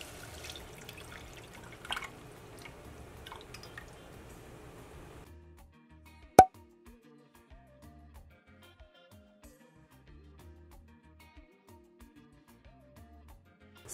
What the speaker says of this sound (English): So in goes our milk.